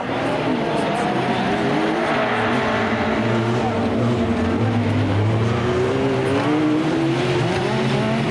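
Touring Cup autocross cars race at the Mauron circuit and bounce over a small jump, engines droning loudly and continuously with rising and falling revs across the whole stretch, while a commentator talks over the action.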